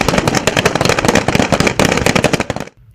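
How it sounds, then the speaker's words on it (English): Rapid bursts of gunfire from soldiers of the KDF and British Army in a joint military training exercise, dense and loud, with overlapping cracks for nearly three seconds before stopping abruptly. "The sound of gunshots"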